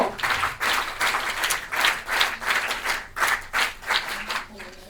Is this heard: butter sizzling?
no